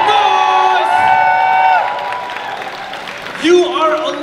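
A crowd at a Jack and Jill swing dance competition finals cheers and whoops with some clapping, the shouting voices rising in bursts and fading before a fresh swell near the end.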